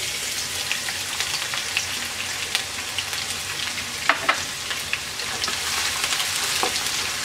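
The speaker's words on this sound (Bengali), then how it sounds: "পেঁয়াজটাকে আমরা হালকা ভেজে নেব।" Half a cup of chopped onion fries lightly with garlic in a pan, giving a loud, steady sizzle dotted with occasional spatula clicks.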